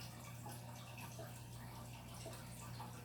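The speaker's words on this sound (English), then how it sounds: "just be very, very careful pouring it in. And just be very slow pouring it in" Oil trickles slowly and faintly into a bottle for a homemade oil blend, a soft continuous liquid pour with a low background hum.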